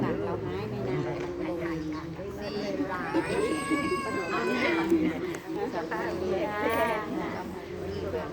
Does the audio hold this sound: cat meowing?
yes